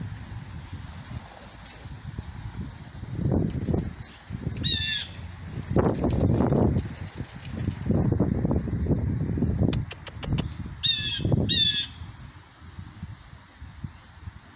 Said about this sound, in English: Are you getting bullied by a bluebird? Or jay, whatever, blue jay.